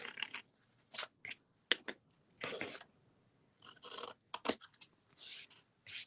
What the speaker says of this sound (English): So cut right through the fold, and same on the other side